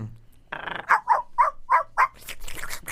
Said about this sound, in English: Oh, there's my little puppy.